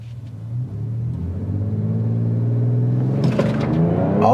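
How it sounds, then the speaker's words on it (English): A Ford Ranger Raptor with a Ford Performance ProCal tune, in 4 high with traction control off and sport mode on, gives a steady close engine rumble that swells louder and harsher as it accelerates hard. "We just spun the tires."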